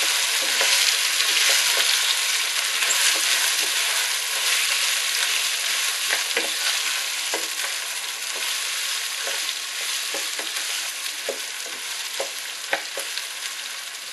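Rice being toasted and stirred in a pan gives off a steady, close crackling sizzle, with frequent light scraping ticks from stirring scattered across the whole stretch; no talking.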